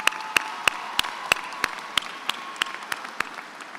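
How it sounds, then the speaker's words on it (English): Applause at a high school graduation, a crowd clapping steadily at a fair distance, with a few sharp, evenly spaced claps from someone nearby punctuating it and a faint tonal hum underneath. "Let's give him a big round of applause."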